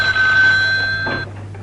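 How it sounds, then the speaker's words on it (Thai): A telephone rings indoors in a Thai drama scene: a steady, bright electronic ring that carries on for over a second and then cuts off near the end, with no talk over it. "เจ้านายคะโทรศัพท์ค่ะ"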